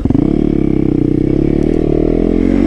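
Supermoto motorcycle riding off a street exit, its engine a loud, steady close-up drone with a continuous rapid firing pulse and no talk.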